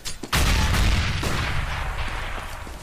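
Grenades explode in a Counter-Strike match with a heavy, booming blast that rolls into a long, dense rumble, close and loud, with faint scattered game noises underneath.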